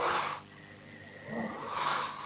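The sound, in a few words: snoring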